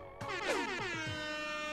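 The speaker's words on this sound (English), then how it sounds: "Use big air horn on the sleepy mole?" A single big air horn blast sounds in the video game Omori, a sudden loud honk with falling, wavering tones that rings out briefly and fades.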